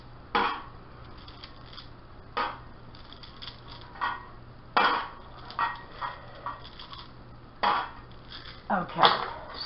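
Glass marbles are dropped one at a time into a metal pie pan, giving several separate clinking knocks with short gaps between them, close and fairly quiet over a faint low hum.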